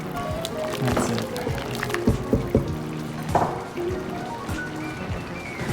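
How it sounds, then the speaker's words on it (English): Dry pasta tumbling into a pot of tomato sauce for pasta alla Norma, then a brief stir, giving a few close splashy, wet knocks and squishes over a steady kitchen background. "So, pasta can go in. A little stir."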